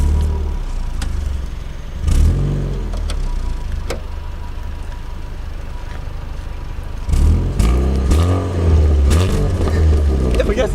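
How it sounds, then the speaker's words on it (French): A hybrid car engine cold-starts and idles with a low rumble, briefly revving twice with rising surges before settling back to a steady idle. "Captage de son, démarrage à froid."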